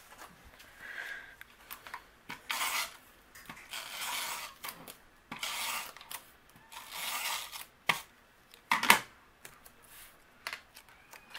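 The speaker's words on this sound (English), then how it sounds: "I'm going to use my tape runner. I'm going to add adhesive behind here." A tape runner lays adhesive on the back of a paper frame, giving short, quiet scratchy strokes and clicks at irregular intervals with soft handling noise between them.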